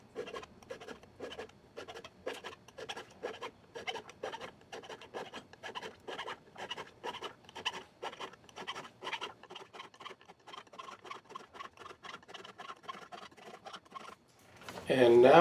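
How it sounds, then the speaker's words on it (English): An auger file rasps over the sharp tips of a chainsaw tooth in quick, steady back-and-forth strokes, a dry scratchy rubbing repeated many times, fairly close and soft, ending with a louder brief noise. "So now we go over the bottom of the crown, those sharp tips, with the auger file."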